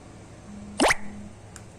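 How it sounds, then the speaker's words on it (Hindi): Idli batter poured into a greased idli maker mould lands with a single thick, wet plop, followed by a faint drip in an otherwise quiet kitchen. "बैटर डालेंगे।"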